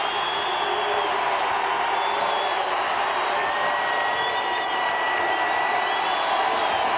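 A packed arena crowd roars during a tied Oklahoma State Cowboys home basketball game against Oklahoma, a sustained, steady wall of cheering and whistles with shrill whoops riding on top, no pauses.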